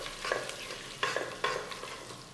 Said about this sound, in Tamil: பட்டை, 4 ஏலக்காய், கொஞ்சோண்டு கிராம்பு, இலை, இது லேசாக வறுத்துக்கலாம்.